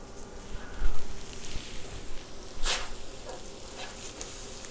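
Mushroom walnut burger patties fry in a pan with a steady close sizzle, broken by occasional scraping and clattering touches, with no talk.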